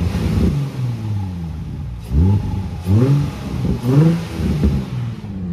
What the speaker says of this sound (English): Let's go ahead and give it a couple revs real quick.